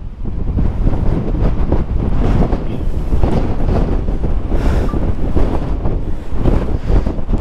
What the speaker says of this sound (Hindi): क्या तगड़ी हवा चल रहा है भाई,